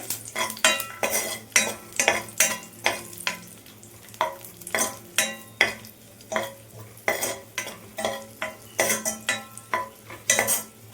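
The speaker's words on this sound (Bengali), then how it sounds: "এবার আমি কিশমিশটা এখানে ভেজে নেব" Raisins frying in hot ghee in a pan, a soft sizzle under rhythmic, close scraping and clinking of a metal spoon stirring against the pan, repeating steadily.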